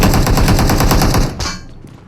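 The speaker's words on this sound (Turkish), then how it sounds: "Neden sıktılar lan Gökhan?" Rapid bursts of automatic gunfire from a video game, loud and sustained for over a second, then cutting off into a fading tail.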